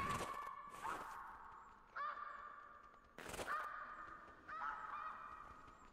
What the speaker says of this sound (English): Or is that the geese I'm hearing? More geese. Man, their wings are loud.